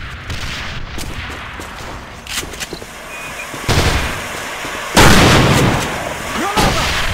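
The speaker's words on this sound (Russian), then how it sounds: "Бросаю гранату!" Gunfire crackles through a battle in the online shooter A.V.A on the Castle Rock map, then a thrown grenade detonates in two loud, broad bursts about midway, with scattered shots continuing around them.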